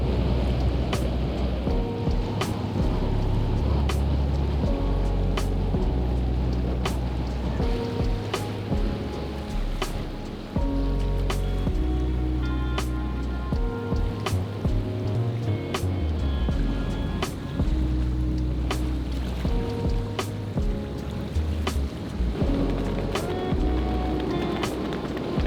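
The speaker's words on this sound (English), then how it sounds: "Oh my goodness, it is really windy." Strong wind at an anchorage near Buena Vista in the Bahamas, a steady loud rushing roar with gusting surges, mixed with water slapping and spattering against a boat, continuous and unbroken throughout with no voices.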